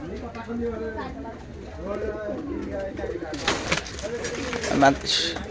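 Golden pigeons at a Friday pigeon market in Gollamari, Khulna, give low cooing calls close by, partly under someone talking.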